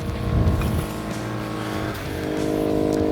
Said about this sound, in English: So you can hear the compressor kicking in to start leveling the vehicle out.